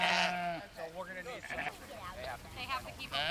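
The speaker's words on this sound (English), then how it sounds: "These sheep are on load to help fertilize the vineyard" Sheep on loan to a vineyard bleat in wavering, quavering calls, one longer cry at the start followed by several shorter bleats at moderate distance.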